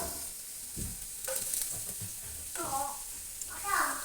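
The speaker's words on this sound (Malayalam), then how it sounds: "ഇതിലേക്ക് നമുക്ക് ചോപ്പ് ചെയ്ത് വെച്ചിരിക്കുന്ന വെളുത്തുള്ളിയും ഇഞ്ചി ഇട്ട് കൊടുക്കാം" Chopped garlic and ginger hit hot coconut oil for a Kerala clam meat roast, giving a steady close sizzle with soft stirring scrapes and a voice talking briefly over it.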